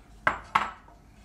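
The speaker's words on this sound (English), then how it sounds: "And keep stirring that up" A utensil knocks twice against a pan while mapo tofu sauce with soy sauce and sugar is stirred: two sharp, close clinks about a quarter second apart, each fading quickly into quiet.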